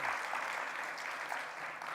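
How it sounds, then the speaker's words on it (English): An audience at a legal technology lecture applauds its panelists with a continuous, even wash of clapping. Fairly faint and distant throughout, with no voices standing out. "let's give our panelists a round of applause"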